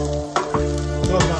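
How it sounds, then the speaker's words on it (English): Onions fry in a pan with a steady, close sizzle, broken by a few soft clinks and stirring scrapes. "So my onions are cooking."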